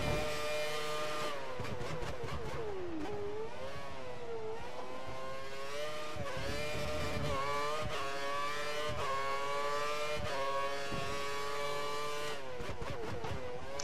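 A Formula 1 race car engine in the F1 2013 video game, on the Hungary circuit, whines loudly and continuously, its pitch climbing and dropping through repeated gear shifts as the car accelerates and brakes.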